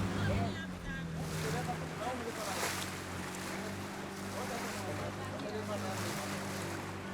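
A taxi boat's engine drones steadily over rushing water and wind buffeting the microphone on a ride from Samasi to Kasanga, with a voice briefly audible beneath the noise.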